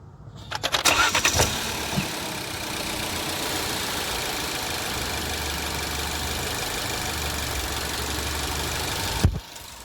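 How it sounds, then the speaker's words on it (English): A 2020 Ford EcoSport, already warm, cranks briefly and fires up, then settles into a steady, fairly loud idle close by that runs uninterrupted until a sharp knock near the end. "I'm going to go ahead and give you a pretty warm start."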